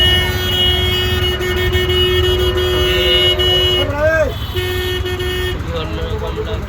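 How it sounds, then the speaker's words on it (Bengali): Vehicle horns honk in heavy rain-day traffic around a CNG auto-rickshaw, loud overlapping toots and sustained blares from several directions, one horn bending in pitch, over a constant road rumble. "সব দিক থেকে এমনভাবে হর্ন দিচ্ছে, সব দিক থেকে।"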